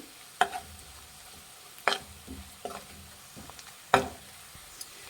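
Mutton liver pepper fry cooking in military hotel style, with green chillies and spice powder: a low, steady sizzle broken by several sharp scrapes and clanks of a spoon stirring in the pan, no talking.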